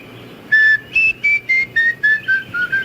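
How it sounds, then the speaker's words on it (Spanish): Someone whistles a short run of eight clear notes in an even rhythm, close and fairly loud, each tone slightly lower than the last. "¿Sabes silbar? Sí. A ver, silba."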